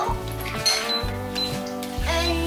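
Cash register at a checkout, its printer and keys rattling in short repeated bursts close by, with voices chattering over it.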